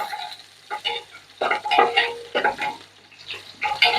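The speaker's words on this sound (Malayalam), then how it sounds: "സവാള ഒരു സോഫ്റ്റ് ആകുന്നിടം വരെ വഴറ്റിയെടുത്താൽ മതി." Onions for pineapple rice are sautéed and stirred in a pan, with a spoon scraping and turning them in irregular bursts over a soft, steady sizzle.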